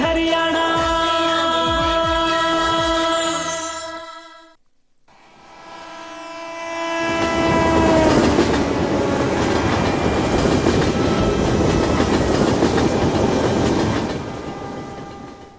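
A train horn sounds loudly, cuts out, then a train rumbles past on railway tracks with a heavy, steady roar of wheels that swells and holds, with no voices.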